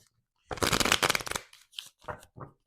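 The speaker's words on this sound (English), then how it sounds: "Let's keep shuffling." Close riffle of shuffled tarot cards, a dense flutter lasting about a second, followed by a few softer taps and card handling sounds.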